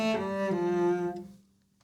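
A bowed cello glides smoothly from one sustained note to the next in a connected slur, rich and close, fading out at the end.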